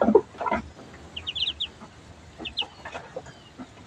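Pet ducks, wet from a bath and drying off in hot weather, give a few short clucking quacks and higher chirping calls, close by and scattered across the moment with brief pauses.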